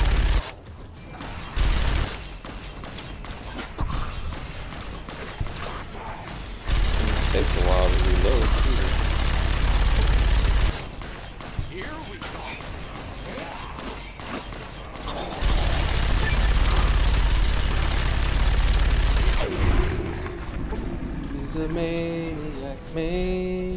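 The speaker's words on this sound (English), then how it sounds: "Let's go find someone to shoot with this cool gun." The CZ57 Avenger minigun in the video game Fallout New Vegas fires in long, loud rattling bursts separated by quieter pauses, with a voice speaking between bursts and mechanical clatter near the end.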